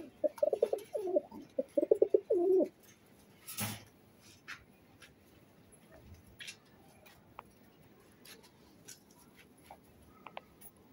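Budapest racing pigeons cooing at close range, a couple of seconds of rhythmic throaty coos at the start, followed by a quieter stretch of faint scattered clicks and small noises.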